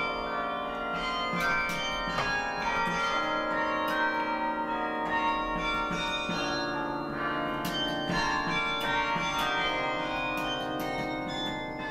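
Large carillon bells of the Bok Tower Singing Tower ring continuously, rich overlapping metallic tones with repeated strikes layering into a dense, sustained wash of resonance, loud and close with no talking.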